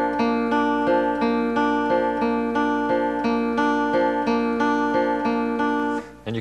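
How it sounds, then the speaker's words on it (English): Acoustic guitar cross picking in a repeating two-down, one-up pick pattern, bright even notes ringing together in a steady rolling rhythm, close and clear, ending with a brief muted scrape. "It involves two downstrokes with a pick and one upstroke"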